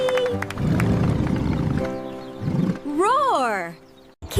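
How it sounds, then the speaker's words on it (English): A cartoon lion roar, a loud sweeping growl that rises and falls, sounds near the end of a bright children's animal song about an animal train, after stretches of singing and music. "Lion roars both loud and proud."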